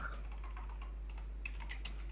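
Rapid typing on a computer keyboard while writing HTML, quiet close-up key taps in an irregular stream, with a few sharper clicks toward the end over a low steady hum.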